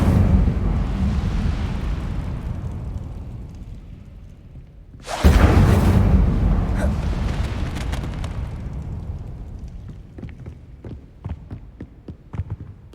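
The Incendio fire spell from Hogwarts Legacy erupts as a sudden loud whooshing blast over low rumbling ambience, then fades slowly over several seconds into quieter crackles.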